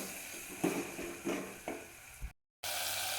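Tomatoes go into a hot frying pan and are stirred in while cooking tur dal, sizzling at a moderate level with a few soft scraping strokes. A brief silent gap comes near the end before the sizzle returns.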